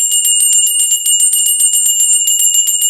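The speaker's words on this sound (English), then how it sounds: "I'm gonna ring that bell" A bell is rung rapidly and continuously, with bright metallic strikes in a quick steady rhythm, loud and close for the whole stretch.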